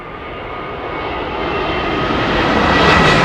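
A Boeing 737 jet comes in to land at London Heathrow Airport, its engine roar loud and close, a steady broad rumble with a faint whine that swells gradually across the few seconds, with no voices.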